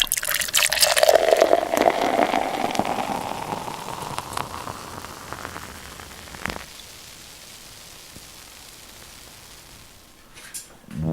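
Stout beer pouring into a glass: a steady gushing, fizzing rush that gradually tapers off into quiet, ending with a brief clatter.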